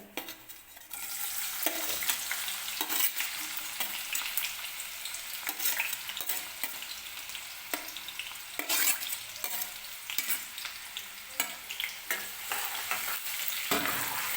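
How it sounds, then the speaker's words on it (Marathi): Onion hits hot oil for pav bhaji and sizzles loudly and steadily, close by, with stirring scrapes rising and falling through the frying and no talking. "तर तेल गरम झालेलं आहे, तर आता आपण कांदा टाकून घेऊया"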